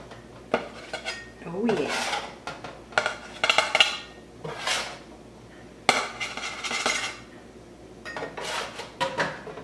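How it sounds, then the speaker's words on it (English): Cookies lifted off a metal cookie sheet and set onto a platter, with repeated close clinks and scrapes of a spatula against the pan and dishes, a brief voice murmuring between them. "So now I'll place the cookies on my platter."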